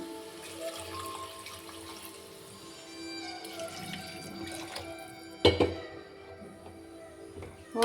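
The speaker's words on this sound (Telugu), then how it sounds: "ఇంకా ఇప్పుడు వాటర్ వేస్తున్నాను." Water trickles and splashes quietly into a pan of potato curry, a soft continuous pour with a brief louder clatter partway through.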